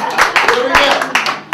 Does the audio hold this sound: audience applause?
yes